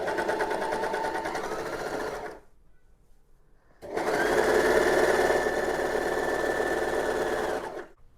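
A sewing machine stitches fabric panels onto patchwork wrap pants in two bursts of steady, close, rapid whirring, separated by a short pause of about a second and a half. No one speaks.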